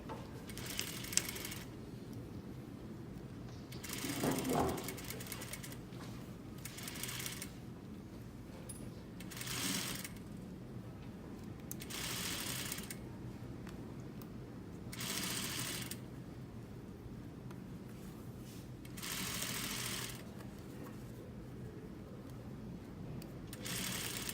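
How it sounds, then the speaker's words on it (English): A sewing machine stitches around a flat collar at a quarter-inch seam, running in repeated bursts separated by short pauses throughout. "I'm just going to sew around it."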